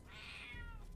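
A cat gives a single drawn-out meow indoors, fairly faint and heard alone without talk.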